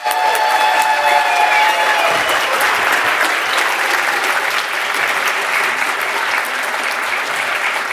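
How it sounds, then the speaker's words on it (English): Rapturous audience applause greets a speaker taking the stage at an open source conference plenary in London, a dense, loud, sustained wash of clapping that holds steady for the whole stretch with no talking. "please join me in a rapturous cavalcade of applause"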